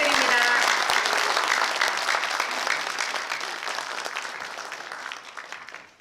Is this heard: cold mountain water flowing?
no